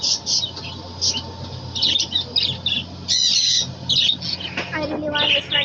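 Birds, apparently in a pet shop, squawk and chirp in repeated bright, close calls over a steady background hum, with some chatter mixed in.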